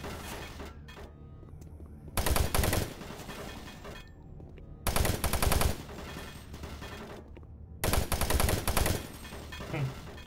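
Automated turret guns in the video game Doom 3 fire in three separate loud machine-gun bursts, each about a second long, with quieter ambient game noise between them.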